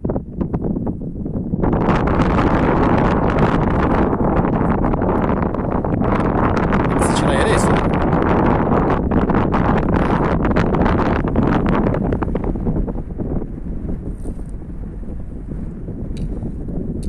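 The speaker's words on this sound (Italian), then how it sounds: "Mo si è alzato un po' di vento però" Strong mountain wind on the Gran Sasso buffets the microphone in a steady, loud roar that barely eases for the whole stretch, with no clear voices.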